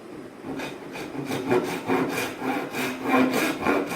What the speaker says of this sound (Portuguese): Com o serrote normal, a gente vai iniciar o processo de corte aqui da madeira